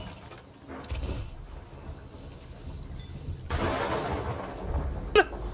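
Thunder and lightning during a storm in the Sea of Thieves video game, a quiet opening rumble followed by a loud crashing burst mid-clip and a sharp crack near the end.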